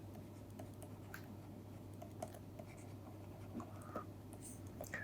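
Pen or pencil writing on paper while working a thermodynamics tutorial problem, with faint scratchy strokes and light ticks over a steady low hum in a quiet room.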